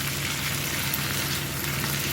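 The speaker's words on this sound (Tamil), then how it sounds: "வெங்காயம் தக்காளி நல்லா வதங்கிடுச்சு" Onion and tomato sauté in a pan for a Tamil mochai kottai and brinjal kuzhambu, giving a steady, even sizzle with no voices.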